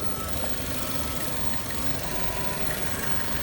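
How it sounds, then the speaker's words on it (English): A 2014 Chevy Cruze engine with a vacuum leak idles roughly in a steady, unbroken rumble with a faint uneven knock, close by and with no one talking. "The engine just runs horribly because of that vacuum leak."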